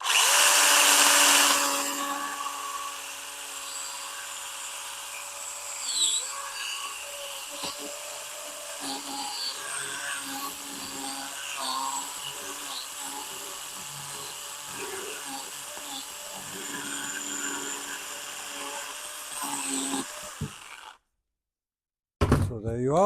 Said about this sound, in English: my favorite tool at the moment is the small mini chainsaw